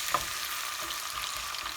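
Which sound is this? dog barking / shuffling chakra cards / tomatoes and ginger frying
tomatoes and ginger frying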